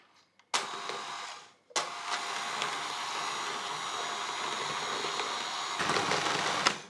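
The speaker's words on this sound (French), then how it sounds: "Maintenant il n'y a plus qu'à mixer." An electric mixer blends muffin batter with oil and water, switching on with a loud, steady whirring drone that runs for several seconds after a brief start and stop, close and alone.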